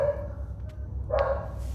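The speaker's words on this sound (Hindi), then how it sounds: "भौंकने दो, कोई बात नहीं।" Dogs barking outdoors at night, a few short yelping barks, one early and one louder near the end, heard at moderate distance over a low background hum, with no talk.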